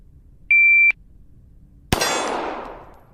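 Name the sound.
shot timer beep at shooting practice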